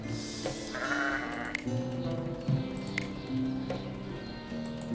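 Sheep bleating in a medieval video game village, several animals calling in repeated, wavering bleats over a steady murmur of ambient game sound, with a few soft taps in between.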